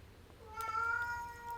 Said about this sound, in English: That was my kitty.